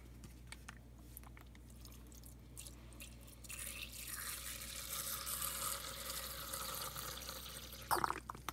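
A little water poured into a Young Living Desert Mist diffuser, a hissy trickle that rises midway and runs for several seconds, close and fairly quiet, ending with a brief clatter.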